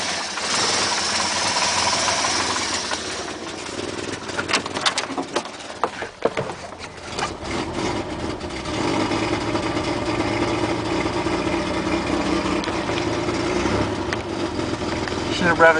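A 1967 Mercedes engine runs at idle after a cold start, a steady mid-pitched drone with a noisy rough patch partway through, close by, while a person talks in the background.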